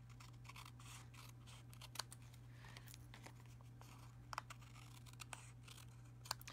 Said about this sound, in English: Then I'm going to take my paper snips from Stampin' Up,